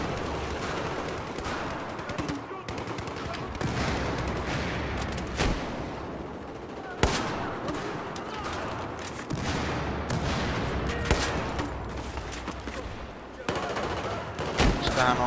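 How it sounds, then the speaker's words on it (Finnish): Bursts of gunfire from the XM25 and other weapons fill a Battlefield 4 match, repeated loud shots and rattling volleys over continuous battle noise. "Mä ammun aina muutaman, niin sitten mä katon, jos se tekee damagea."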